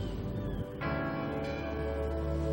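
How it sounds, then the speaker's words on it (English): A small tugboat bell dings with bright, ringing tones that sustain and overlap, heard alone and fairly close for a couple of seconds. "Bedford dinged his little bell one last time."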